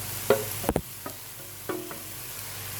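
A spatula stirs moringa leaf bhaji with freshly grated coconut in a pan, giving a few sharp scrapes and clinks over a soft, continuous sizzle, with no talking.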